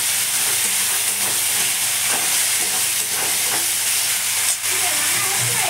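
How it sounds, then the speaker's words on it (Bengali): Ginger-garlic paste and spices sautéing in a pan give a loud, dense, continuous sizzle and hiss close up, with faint stirring scrapes running underneath. "ভালো করে কষিয়ে নেব"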